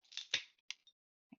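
Glass being cut into a piece for a glass Christmas tree frond, with a few crisp scissor-like snips and scratchy bursts, close and clear, separated by short silences.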